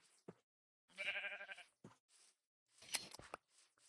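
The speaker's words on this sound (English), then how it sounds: "It's nice to know there's so much sheep around here, too." Minecraft sheep bleating in the game world, a few short bleats spaced apart with some brief game clicks, fairly close and quiet, no talking.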